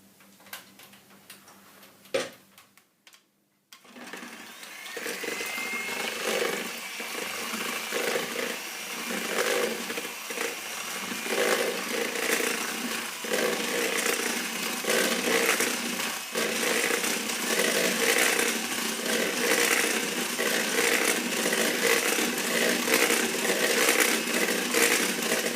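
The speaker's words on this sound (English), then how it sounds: "I'm going to whisk the egg whites until the soft peak stage, and I'll show you what it looks like on a slow speed." An electric mixer whisks egg whites on slow speed toward soft peaks for French meringue, a steady whirring hum with a faint rhythmic ticking that runs continuously after a brief quiet start, close and alone.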